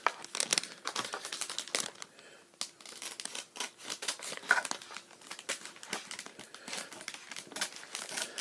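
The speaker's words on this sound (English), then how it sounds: "I'll trim off the white part" Scissors snipping and trimming the white edge off a plastic case, a series of quiet close crisp cuts mixed with crinkling plastic, irregular in rhythm and heard alone.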